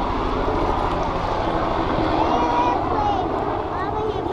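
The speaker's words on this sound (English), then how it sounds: "Airplane. Helicopter or something." An airplane passing overhead gives a steady broadband drone that fills the outdoor scene throughout, heard beneath people talking nearby.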